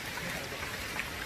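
Steady rain falling outdoors in the hills during a motorcycle trip, a dense even patter with no pauses, fairly close and continuous throughout.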